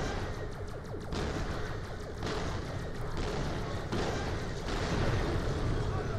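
Cryo rockets firing in Borderlands: The Pre-Sequel, several heavy booming launches at intervals over a steady rumbling battle din, loud and near.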